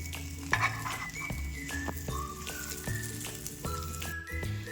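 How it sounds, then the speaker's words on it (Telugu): Chapati egg buns frying in a pan are turned one by one with a spoon, giving soft scraping taps at regular intervals over a continuous gentle sizzle, close and fairly quiet. "ఇప్పుడు వీటిని తిరగదిప్పుకుందామండి. ఇలా స్పూన్ సహాయంతో వీటిని చేసుకోవాలన్నమాట అన్నిటినీ."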